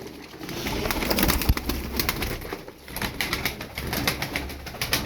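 Pigeons in a coop coo repeatedly in a close, continuous chorus, with occasional soft wing flutters and shuffling.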